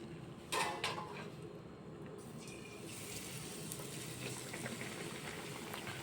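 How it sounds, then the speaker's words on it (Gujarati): Battered bread pakora dropped into hot oil on a medium gas flame, a steady broadband sizzle and bubbling that starts with a brief splash and continues evenly throughout, close and moderately loud, no talking. "હવે આપણે તેલમાં બેટ પકોડું એડ કરી દઈશું"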